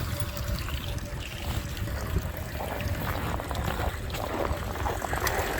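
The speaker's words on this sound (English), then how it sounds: "Get the water out of the hose." Water draining out of a hose on a truck used for hauling water, a steady splashing trickle over a broad outdoor wash of noise, with no one talking.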